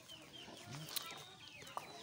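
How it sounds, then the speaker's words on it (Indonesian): Chickens cluck and chatter at a poultry farm in Cianjur, a busy, moderately distant flock with scattered sharper calls. "Aduh, coba lihat tuh ayam-ayamnya."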